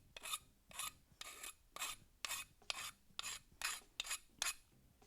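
A hand file rasps metal along a scribed line in a garage, ten evenly spaced harsh strokes in a steady back-and-forth rhythm, close and clear with nothing else heard.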